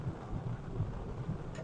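Thunderstorm around a truck camp in the Ouachita National Forest: heavy rain roars steadily with a deep, rumbling low end of thunder, loud and continuous, with no talk.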